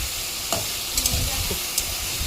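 Kuche eel fish frying with salt and turmeric in a pan, a steady close sizzle broken by a few light stirring scrapes and taps.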